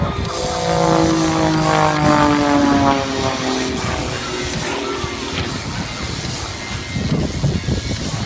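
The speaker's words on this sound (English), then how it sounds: "The Pitts Special dominated world aerobatic competition right throughout the 60s and 70s, and even today remains, as you see, a potent competition aircraft" A Pitts Special aerobatic biplane with a propeller engine flies at an air show, a steady loud drone with a shifting pitch that holds for several seconds at fair distance, broad and rumbling.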